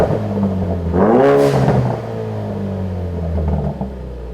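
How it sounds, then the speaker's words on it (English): A Ford Focus RS fitted with a Ford Performance 3-inch active cat-back exhaust, valve open in sport mode, blips its engine once in a loud rising rev that falls back to a deep, rumbling idle. "We're going to put it in sport mode to open up the valve."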